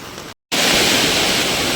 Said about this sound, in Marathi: मंडळी नदीला एवढं पाणी भरपूर आलंय ना